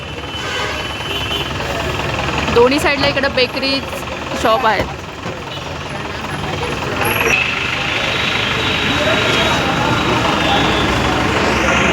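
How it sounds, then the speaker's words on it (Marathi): A roadside traffic jam in a bakery-lined village street, with truck and vehicle engines idling and rumbling steadily throughout, occasional louder revving bursts, and someone talking over the noise. "ट्रॅफिक जाम झाले सगळं"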